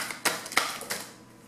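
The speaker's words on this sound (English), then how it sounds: "Hope my shuffling is being recorded." Tarot cards are shuffled by hand in a few quick riffling bursts, close and fairly soft, with no talking.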